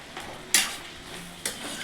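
Chicken frying in a pan with onion, green chili and tomato, two sharp stirring scrapes over a soft steady sizzle, close and moderately loud.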